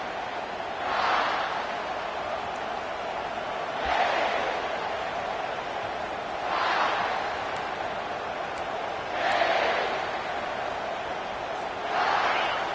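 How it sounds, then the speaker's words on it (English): Stadium crowd in an EA Sports College Football game swelling in steady cheering waves every few seconds over a constant roar, loud and continuous with no talk. "This crowd bringing an ear-splitting welcome to their visitors."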